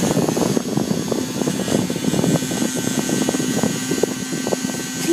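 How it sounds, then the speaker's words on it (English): Battery-powered air cooler fan running with its blades on, a loud steady whirring drone with rapid fluttering pulses, close and continuous throughout. "World's noisiest fan. Might be wondering, it's an air cooler fan."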